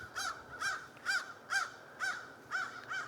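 A bird calls in a regular series of seven harsh, caw-like notes, evenly spaced about half a second apart, fairly faint and heard alone against a quiet background.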